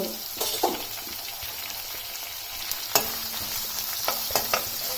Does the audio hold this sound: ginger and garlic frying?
yes